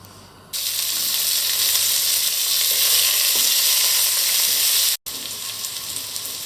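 Carrot, garlic and salt frying in olive oil in a pot give a loud, steady sizzle that starts abruptly and holds, with a brief dropout near the end.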